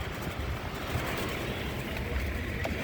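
Blower motor of a 1981-1990 Ford EXP or Escort A/C system running at a higher fan speed, producing a steady, even, broad rushing whir with no breaks or talk.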